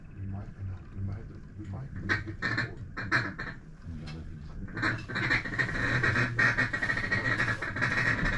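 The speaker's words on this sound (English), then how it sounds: "We've seen a couple other ducks working, some gadwalls and some mallards" Ducks quack repeatedly in bursts at a hunt in Arkansas, among gadwalls, mallards and pintails, the calls fairly close and loud, with people talking over them.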